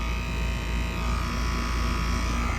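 Trane XR air conditioner with a noisy scroll compressor running outdoors, a steady close buzzing hum with a low drone, constant and unbroken throughout with no voices.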